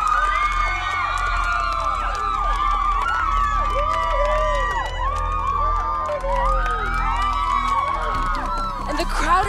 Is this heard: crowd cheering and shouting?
yes